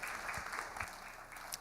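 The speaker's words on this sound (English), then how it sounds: "A hand of applause for her." Audience applause at the Ghana Economic Forum, a steady, fairly faint wash of clapping that fills the short moment from start to finish without a break.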